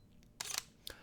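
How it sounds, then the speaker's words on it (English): A Sony A7RII camera's electronic shutter fires with soft, close clicks, a paired burst followed by a single shorter click, in a quiet room. "S-Log video on board, an electronic shutter,"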